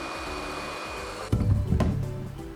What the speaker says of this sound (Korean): 드라이기만 뿌리에 여기 열 한번 쓱 주면은 끝이죠